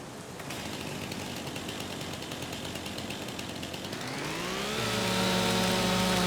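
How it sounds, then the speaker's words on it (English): A chainsaw in the Farming Simulator 25 forestry game drones steadily and loudly, then revs up and settles into a higher, steady whine near the end. "It's a beautiful chainsaw, man."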